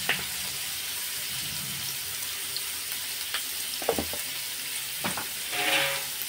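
Thinly sliced onions sautéing in oil with salt in a pan for matar paneer: a steady, close, hissing sizzle throughout, with a few soft clinks and stirring scrapes near the end.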